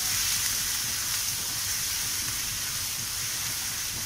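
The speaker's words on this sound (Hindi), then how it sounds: "और लहसुन को धीमी आँच में ही मैं इसको फ्राई करूँगी" Garlic fries in a pan over a low flame for lasooni palak paneer, a continuous even sizzle and hiss that stays close and steady for the whole stretch, with no voices.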